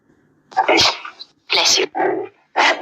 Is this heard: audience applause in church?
no